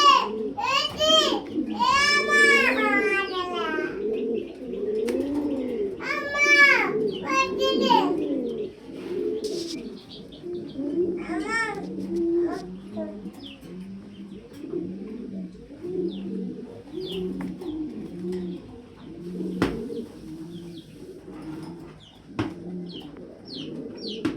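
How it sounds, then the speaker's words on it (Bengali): Fancy pigeons, including German Beauty birds, coo in a continuous low, throaty burble close by, with higher calls and bursts of talk over it early on. "এক একটা কবুতর এগুলো সব বাইরের"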